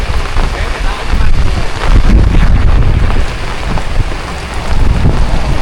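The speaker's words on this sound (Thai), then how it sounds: "ลมพัด" Strong wind blows hard during a heavy rainstorm, a loud, steady, rushing roar buffeting the microphone with gusty surges throughout.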